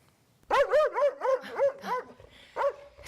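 A dog barks in a quick run of sharp, yelping barks, five or six in a row, then a pause and one more bark, loud and close with no talk.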